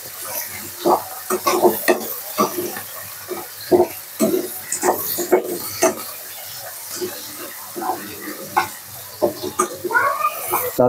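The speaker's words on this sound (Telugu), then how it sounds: "మనము ఆనియన్, టమోటా ఇవి కూడా ఫ్రై చేసుకొని" Onion and tomato fry in a pan for a paneer capsicum gravy curry while a spoon stirs them, steady sizzling broken by repeated scraping strokes throughout, close and fairly loud.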